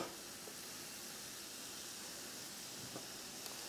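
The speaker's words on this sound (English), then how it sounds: "We want the pancetta to cook down, render off a bit of the fat, the garlic to sweat off, and flavor the oil." Pancetta and garlic sizzle in oil in a pan for spaghetti carbonara, a soft, steady hiss with a couple of faint pops.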